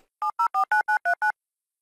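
Seven crisp touch-tone dialing beeps from a telephone in a cartoon prank call, evenly spaced and clean, each a short dual-tone burst, followed by silence.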